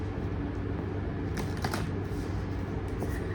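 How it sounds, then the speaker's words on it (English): Tarot cards drawn and shuffled from a deck: a few quick papery flicks and riffles close by, over a steady low room hum. "I'm gonna take some more cards from this deck"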